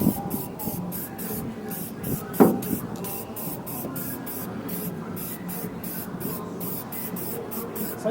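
Aerosol spray hissing onto the wheels of an Ariens Sno-Tek 24 snow blower outdoors on a windy day, a series of short rhythmic bursts repeating steadily across the clip, with a brief knock partway through.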